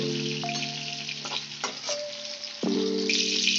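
Pumpkin pieces fry in hot oil with a steady, dense sizzle, broken by a few soft clicks of a utensil turning them, continuous and close throughout.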